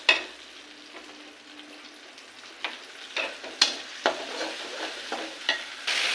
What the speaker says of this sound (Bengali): মশলাটাকে একটু কষিয়ে দেবো।